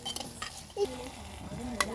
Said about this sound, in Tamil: வெங்காயம், தக்காளி எல்லாமே கலர் வர வரைக்கும் வறுத்தாச்சு.